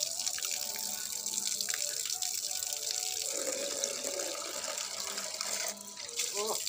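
Steady running water from a tap pours continuously while a little girl is bathed, a constant loud splashing rush with faint voices and small knocks underneath.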